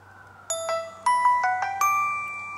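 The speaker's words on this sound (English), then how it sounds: "The bell invites me." A bell rings out in a Macbeth stage-style film scene, struck five times in an uneven sequence, each bright metallic chime ringing and slowly decaying over a low steady hum, with no voices.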